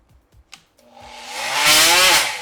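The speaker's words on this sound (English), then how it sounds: "Turn on the oscillating tool." An oscillating multi-tool is switched on and spins up, its buzzing whine rising in pitch and loudness to a steady, close drone after a few faint clicks.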